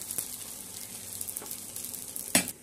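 Chopped eggplant slices coated in turmeric fry in hot oil in a pan, giving a soft, steady sizzle with a couple of brief sharper crackles, quiet and close.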